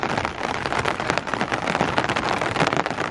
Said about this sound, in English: Guys, it's non-stop raining